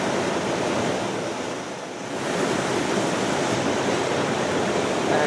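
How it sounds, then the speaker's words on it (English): Loud ocean surf breaking on an island shore, a steady broadband roar of crashing waves that dips briefly and then swells again, with some wind buffeting the microphone. "The surf is really loud."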